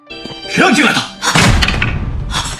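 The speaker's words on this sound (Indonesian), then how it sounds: "papan nama ibu Hongye yang dipegangnya terjatuh dan pecah" A wooden memorial name plaque drops and breaks with a heavy thunk and cracking clatter, loud and close, tangled with a sharp shouting voice.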